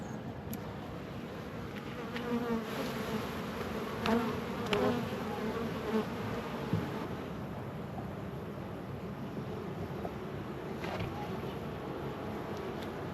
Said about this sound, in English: it's looking like there's quite a few bees in there